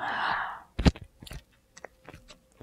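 White Korean rice cake (tteok) is chewed close to the microphone in an ASMR setting. A soft breathy rush comes first, then a series of sticky, crunchy bites and chews in irregular bursts against near silence.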